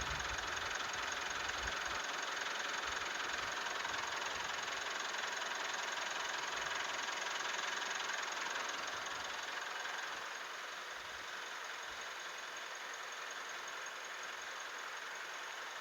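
A Mitsubishi Pajero Dakar 4x2 automatic's engine idles steadily and evenly, a continuous smooth hum heard up close with no voices, easing slightly quieter toward the end.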